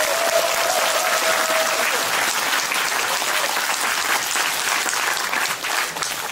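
Sustained applause from a seated audience at a book concert, a loud, steady wash of many hands clapping that holds evenly throughout with no voices over it.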